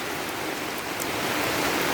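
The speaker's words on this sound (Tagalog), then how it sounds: "ang lakas ng ulan" Dense, even roar of heavy rain drumming on an umbrella overhead, a steady close wash of droplets with no voices.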